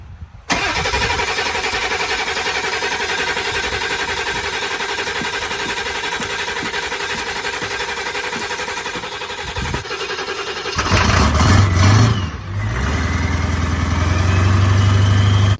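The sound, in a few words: 7.3 diesel truck engine cold starting and idling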